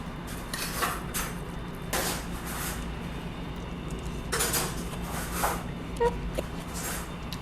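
Spoon and chopsticks scrape and clink against a bowl while bibimbap is mixed in a Jeonju restaurant, with intermittent stirring bursts over a busy room murmur.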